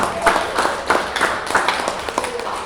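A crowd at a business seminar claps enthusiastically, loud overlapping hand claps with distinct rhythmic surges running for a couple of seconds.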